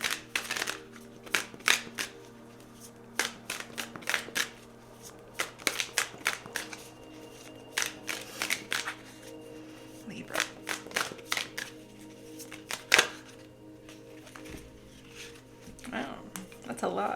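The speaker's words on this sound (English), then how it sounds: "I'm gonna shuffle out these cards as I was saying" A deck of tarot cards being shuffled by hand in repeated bursts of crisp riffling and slapping, close and fairly quiet, with pauses between rounds and a faint steady hum underneath.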